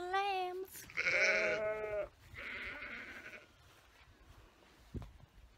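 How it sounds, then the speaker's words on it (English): Young lambs in the Lake District bleating, several clear wavering calls one after another at close range, followed by quieter background sound and a short knock near the end. "All the little lambs."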